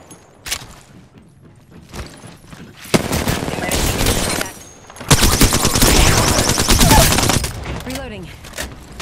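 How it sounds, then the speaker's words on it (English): Rapid automatic gunfire from Apex Legends gameplay, with bursts of sustained shooting around the middle and a longer loud volley near the end, set over game ambience and some background talk. "Opening fire."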